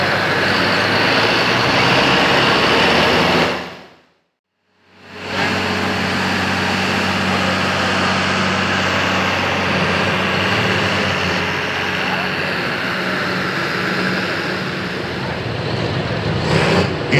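Loud, steady engine roar at a tractor pull at a campground fairground, running almost continuously with one brief silent gap near the start, then holding a constant heavy drone.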